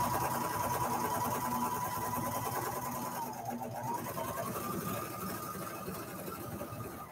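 A sewing machine stitches a pair of boys' sweat shorts, a steady mid-pitched motor hum running continuously with a brief dip in speed partway through.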